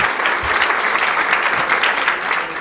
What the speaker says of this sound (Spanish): Yo quisiera que le diéramos un aplauso a todos ellos esta mañana.